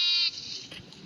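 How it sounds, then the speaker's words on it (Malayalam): A sheep in the video game Minecraft lets out one short, bright bleat at the very start, followed by quiet game ambience. "ആട്ടുകുട്ടി"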